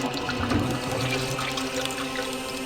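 Toilet flush in a horror video game: a steady rushing, gurgling swirl of water at close range, holding even loudness throughout with no talk over it.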